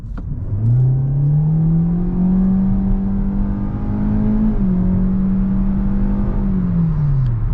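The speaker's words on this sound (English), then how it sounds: "let's go ahead and put this car in sport mode, and let's go ahead and do another acceleration" A 2023 Hyundai Elantra accelerates hard in sport mode, its engine note climbing steadily in a smooth rising drone, dipping briefly at a gear change, then climbing again before easing off; loud, close interior sound with no talk.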